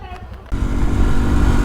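A motorbike engine idles steadily and loud after a short quieter start, one of three bikes setting out from a Nepali village, with low rumbling throughout.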